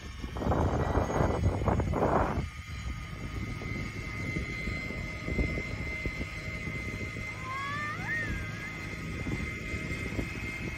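An Ego two-stage battery-powered snow blower runs with its auger on turbo, giving a steady, close motor whine and churning rush that is louder and rougher in the first two seconds, then holds an even drone throughout.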